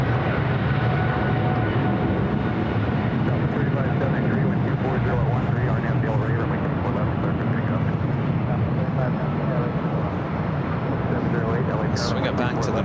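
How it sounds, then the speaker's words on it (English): A British Airways Boeing 777-300ER takes off at LAX, a sustained heavy jet roar rumbling steadily at a distance, with someone talking over it throughout. "The 777-300ER now taking off there on the south side"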